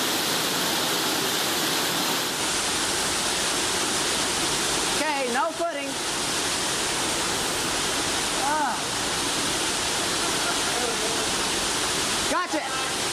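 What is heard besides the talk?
waterfall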